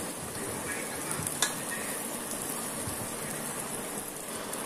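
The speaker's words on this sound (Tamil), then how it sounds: "எண்ணெயில் வந்து நல்லா வெங்காயத்தை வந்து வறுத்துக்கோங்க" Onions fry in hot oil in a pan, giving a soft, even crackling sizzle like light rain, with one brief clink partway through.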